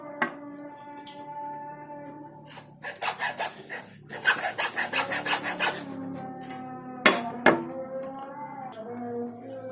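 Bamboo segment being cut to make a Batak Toba sordam flute, a close rhythmic rasping of a blade through the wood in several bursts, with tonal ringing from the bamboo between strokes.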